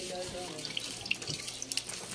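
Water runs steadily from a tap in a continuous close splashing stream, with small drips and clicks on top and no voices.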